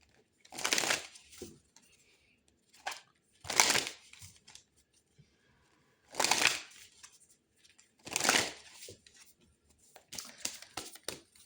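Tarot cards riffled and shuffled in repeated crisp bursts, five separate rustling flurries spaced a couple of seconds apart, close and clear with quiet pauses between.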